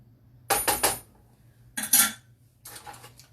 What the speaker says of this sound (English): Get rid of all the cheese on the spoon. Scrape off the spoon.